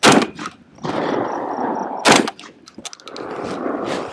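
A UTAS XTR semi-automatic shotgun fires two loud, close blasts about two seconds apart, each followed by a dense rolling echo, with light clicks of handling between them.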